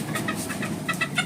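Chickens on a poultry farm cluck in short repeated bursts, a loose chorus of several birds close by over a steady background hum, with no talk.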